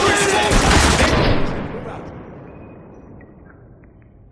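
Heavy automatic gunfire bursts loudly in a combat firefight in the video game Spec Ops: The Line, rapid dense shots for over a second, then decaying into a long rumbling echo and fading tail.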